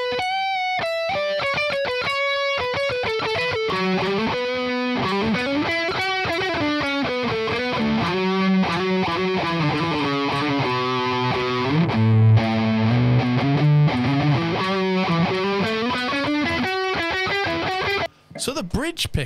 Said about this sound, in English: This is how the neck solo tone sounds with the Tube Screamer on.